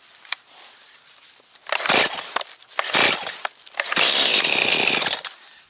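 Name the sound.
Stihl MS211C chainsaw cold start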